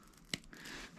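A sensor wire being snipped during a motorcycle outside air temperature sensor install: one sharp, close cutting snap followed by faint handling noise.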